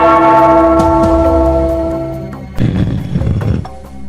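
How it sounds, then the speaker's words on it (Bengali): A bell rung in a comic folk-tale scene rings out with a sustained, steady tone over the first two seconds. It fades and gives way to a burst of louder, rougher clattering sounds near the end. "ওই ঘন্টাটা বাজাও, বাজাও।"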